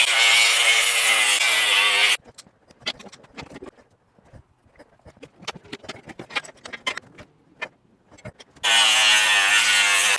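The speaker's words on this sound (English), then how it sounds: "I'm cutting here to get the last segment made, and then I'll weld that in" Cutting metal for the last segment of a seat box on a motorcycle-powered ATV, rapid gritty rasping strokes in irregular bursts, framed by loud steady broadband noise before and after.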